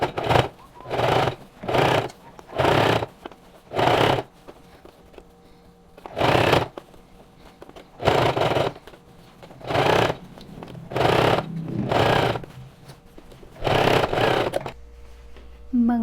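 Sewing machine running a seam around a Chanel-style jacket, in about ten regular bursts of stitching separated by short pauses, close and fairly loud, with no talk.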